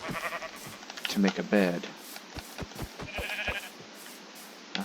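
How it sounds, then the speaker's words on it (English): Sheep bleat in the video game Minecraft, two wavering calls close together in the first half while a person talks over them, followed by a series of soft, evenly spaced game clicks. "And there's another sheep."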